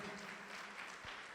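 Church congregation clapping in a brief, faint, steady burst of applause, with no voices over it.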